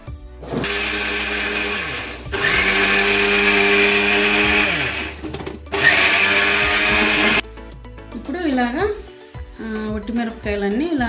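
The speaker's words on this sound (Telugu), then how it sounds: "ఇట్లా మిరపకాయలకి వేసి మిక్సీకి పడదాము" A mixer grinder grinding dried chillies with coarse salt roars in loud whirring bursts with short pauses between them, and a voice talks once the grinding stops.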